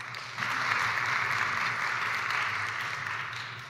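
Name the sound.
audience applause at a conference session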